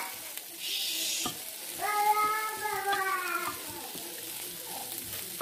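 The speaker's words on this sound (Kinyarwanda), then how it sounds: "Ariko njyewe ndimo ndabikaranga." Onions sizzle in a frying pan with oil for an omelet, a soft crackling hiss with brief stirring scrapes, partly overlaid by a voice with tonal, sung or meow-like tones in the middle.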